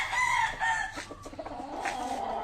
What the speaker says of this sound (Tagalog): Puro manok pa to, mga white kelso.